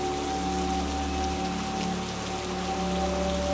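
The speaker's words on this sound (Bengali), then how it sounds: "ওমা, বৃষ্টি যে পড়তে শুরু করলো" Rain falling at night near a cremation ground makes a steady, even hiss across the whole stretch, under a constant low tonal hum and with no voices.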